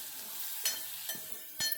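Onions and green chillies dropped into hot tempering oil for a tomato egg curry, a constant bright sizzle with three soft stirring knocks of a utensil against the pan, close by and without talk.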